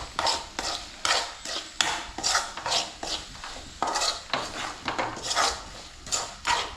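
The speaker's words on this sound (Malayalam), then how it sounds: "ഇത് നമുക്കൊന്ന് ഇളക്കി കൊടുക്കാം" Repeated scraping strokes of a utensil against a pan, stirring lemon pickle in a steady rhythm, close and fairly loud with no voices.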